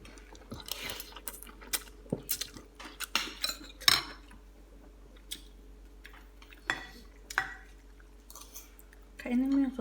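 Eating sotanghon soup with egg, pechay and cabbage: scattered sharp clinks of spoon and cutlery against dishes, irregular and fairly close, with quiet pauses between and a voice briefly at the end.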